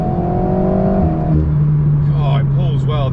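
A sports car engine pulls hard from inside the cabin, rising revs holding a steady tone before a gear change drops the pitch into a low drone, with someone talking over the end.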